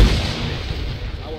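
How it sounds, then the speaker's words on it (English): Grenade blast in the Arma 3 military shooter game, a single heavy boom at the start that rolls off into a rumbling tail amid battlefield noise. "That was my grenade."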